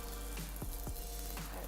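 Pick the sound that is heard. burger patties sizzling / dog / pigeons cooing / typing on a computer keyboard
burger patties sizzling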